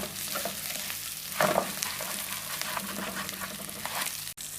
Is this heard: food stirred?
yes